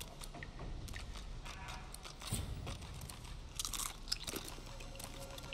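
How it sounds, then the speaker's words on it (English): A character munches noisily in Divinity: Original Sin 2, making quiet, wet crunching and biting sounds that repeat irregularly against a low ambient game background. "What are you munching on over there?"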